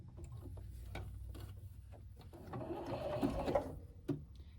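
Sewing machine stitching coiled rope into a square rope bowl, a steady close mechanical whir with needle clatter that rises and quickens toward the end, broken by short pauses.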